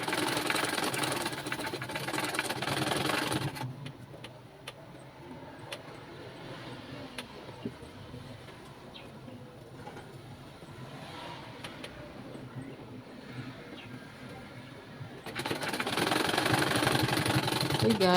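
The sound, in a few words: sewing machine stitching a baby frock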